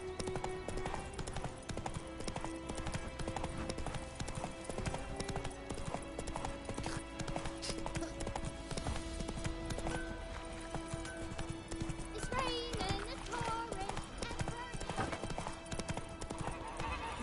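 Horse hooves clip-clop steadily while riding in The Witcher video game, a continuous rhythmic trot over layered game music and ambience, with occasional faint whinnies.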